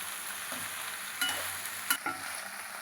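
Okra (lady's fingers) fries in a pan with a faint, even sizzle, broken by a couple of brief stirring clinks, quiet and with no talking.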